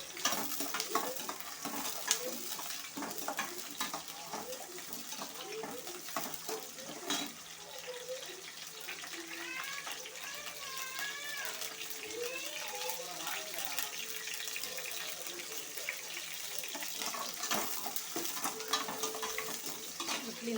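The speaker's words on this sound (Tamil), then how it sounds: "வெங்காயத்தை நல்லா சேர்த்து வதக்கி விடுது." Onions sautéing in a pan while being stirred, a low steady sizzle with scraping and clinking throughout, faint background voices now and then.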